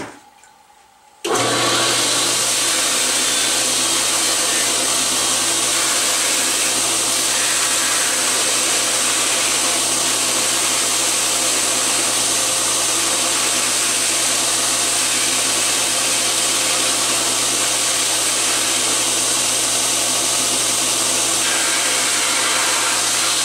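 Power tool cutting and scraping a Kydex sheet for a knife sheath, a steady loud whirring drone that starts abruptly and runs unbroken for over twenty seconds.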